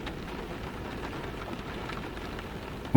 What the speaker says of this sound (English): listen to the rain outside